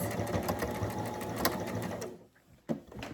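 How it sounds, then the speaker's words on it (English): A sewing machine runs a few back stitches to secure a patch on stretchy pants, a close, busy mechanical whirr that stops abruptly, followed by a brief quiet gap and one last short burst. "I'm just going to go ahead and give that a couple of back stitches"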